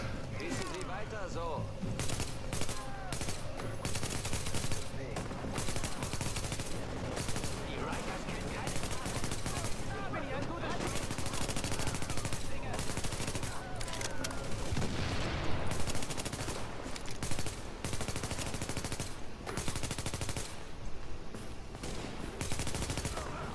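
Sustained weapon gunfire in the co-op shooter The Division, with dense bursts of shots running throughout over constant game ambience, while players talk over the action.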